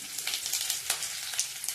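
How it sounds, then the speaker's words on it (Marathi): Cumin seeds, curry leaves and chillies sizzle and crackle steadily in hot oil as a tempering for kanda poha, a dense continuous hiss with small pops throughout, close and alone without talk. "आणि मिरची चांगलं तेलात आधी भाजायचं"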